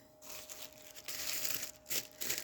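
A plastic bag crinkles and rustles in repeated bursts while a bottle of liquid soap is wrapped up for packing, close and fairly quiet with no talk.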